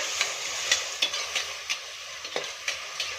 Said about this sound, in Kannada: ಹಾಗೆ ಇಲ್ಲಿ ಶುಂಠಿ ಮತ್ತೆ ಬೆಳ್ಳುಳ್ಳಿನ ನಾನು ಜಜ್ಜಿ ಹಾಕೋತಾ ಇದ್ದೀನಿ. ಚೆನ್ನಾಗಿ ಫ್ರೈ ಮಾಡ್ಕೊಳ್ಳೋಣ.